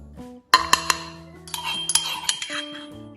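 Garlic lightly crushed with a mortar and pestle: a few sharp ringing clinks of the pestle striking the mortar, each tone lingering, followed by softer repeated taps in quick succession.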